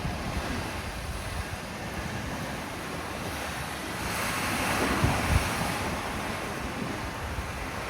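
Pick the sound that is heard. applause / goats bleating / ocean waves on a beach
ocean waves on a beach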